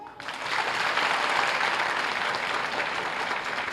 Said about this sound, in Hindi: समझ में आया और अच्छा लगा तो ताली बजाओ